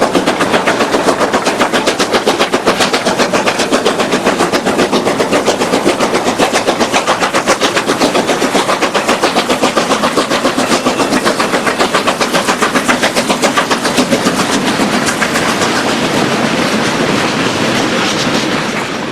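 Chinese QJ steam locomotive hauling a train through mountain loops on the Jing Peng Pass, a loud, steady clatter of rapid exhaust beats and rolling wagons that continues unbroken from start to finish.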